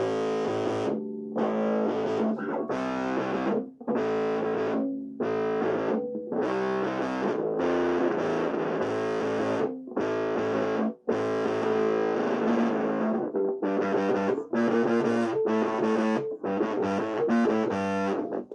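Overdriven electric guitar played through a wireless guitar system, loud distorted chords and riffs in choppy bursts with short gaps between strums, alone without talk.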